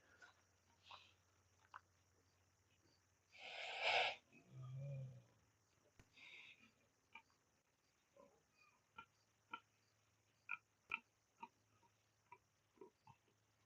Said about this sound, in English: That's the big dad pig.